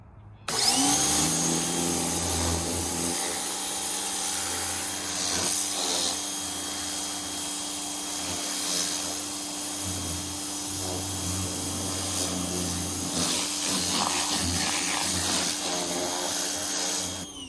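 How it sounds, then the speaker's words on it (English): A pressure washer sprays water from a hose during maintenance of a Cub Cadet RZT50 zero-turn mower with a Kawasaki FH661V engine. A loud, steady motor drone and rushing spray start abruptly and hold for the whole stretch, with no one speaking. "now that it's finally warm enough to turn the hose on, how about some pressure washing ASMR?"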